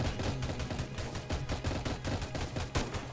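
Towers firing in the Roblox game Tower Defense Simulator: rapid, dense bursts of gunfire that repeat steadily and loudly throughout, with no talking over them.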